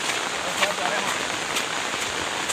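Steady rain patters in a dense, even hiss outdoors during a fishing outing, with faint speech in the background.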